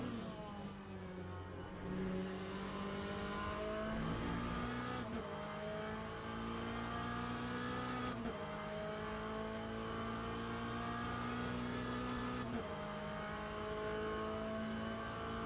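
Race cars in Le Mans Ultimate, a McLaren among them, roar continuously at close range with engines revving through gear shifts and faint tyre noise, no voices.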